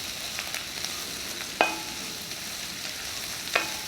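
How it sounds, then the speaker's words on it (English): Cauliflower and sweet potato soup ingredients sizzle in a pot under a steady frying hiss, while a utensil scrapes and clinks against the pot twice, sharp distinct knocks about two seconds apart. "Give it a stir."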